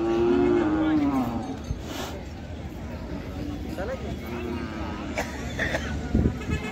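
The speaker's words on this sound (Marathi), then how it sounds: "लांब सडक गाय आहे," A long-teated, purebred farm cow moos in a low drawn-out call near the start, followed by fainter lowing, with people talking nearby throughout.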